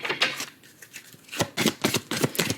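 Tarot cards are shuffled by hand in a series of crisp riffling bursts, close and fairly loud, with a short pause before quicker repeated shuffles.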